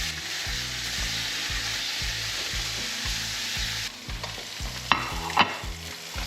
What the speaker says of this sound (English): So we're gonna sear our fish in